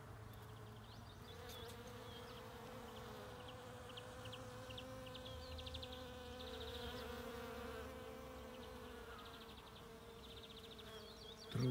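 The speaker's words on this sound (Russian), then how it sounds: "Слышно, пчелки?" Bees buzz softly and steadily outdoors, a faint continuous drone that rises and falls slightly as the insects move nearby.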